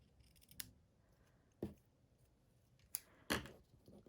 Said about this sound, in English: I'm just going to tidy up these bits of ribbon. Cut them on an angle.